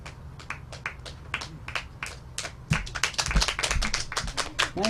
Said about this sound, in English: Let's have another round of applause on my end.